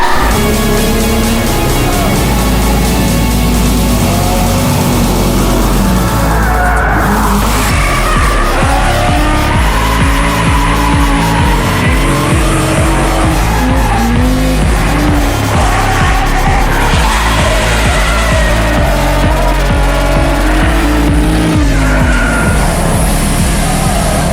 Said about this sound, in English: Get some of that night drifting.